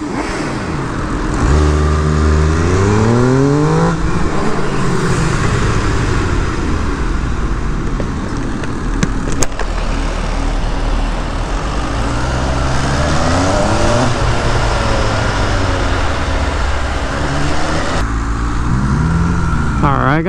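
An MV Agusta limited motorcycle engine revving hard at full throttle on a canyon road, repeated rising and falling sweeps through the gears, loud and close, with a rider's voice talking over it at times.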